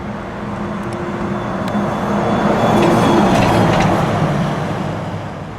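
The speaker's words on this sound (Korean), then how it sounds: "지하철이 플랫폼을 빠져나갈 때 나는 소리랑 똑같지 않습니까?" A steady electric drive whine from a Hyundai Xcient Fuel Cell hydrogen truck, with broad rumbling noise, swells gradually and then eases as it pulls away, like a subway train leaving a platform, with no talking.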